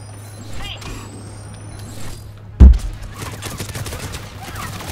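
Turret gunfire in Mass Effect 3 multiplayer on Xbox 360: one sharp loud blast near mid-clip, then a rapid spray of crackling shots under ongoing game noise and a talking voice.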